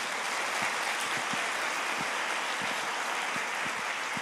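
Congregation applauding inside a church during a service, a steady wash of clapping, fairly faint and distant and even throughout, with no voices heard over it.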